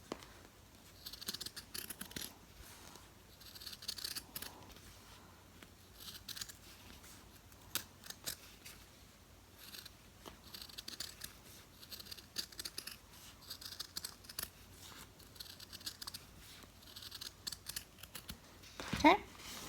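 Heavy duty scissors snip around a fabric football zipper bag in quiet, irregular crunching cuts spread over the whole stretch, close by, with soft handling rustles between them.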